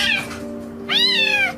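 A kitten trapped and in distress gives two loud, close meows, a shorter one followed by a longer drawn-out cry after a brief pause, with no talking.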